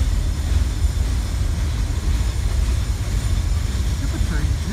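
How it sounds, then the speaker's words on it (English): A maintenance-of-way train hauling scrap ties passes through a rail yard, a steady low rumble and roar that holds at constant loudness from start to finish, with no voices. "Look at the train, here it comes."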